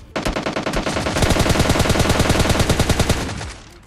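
Automatic weapon fire in the shooter game PUBG Mobile Lite: loud, rapid, evenly spaced shots in one long continuous burst lasting a few seconds, close and dominant, with no talking.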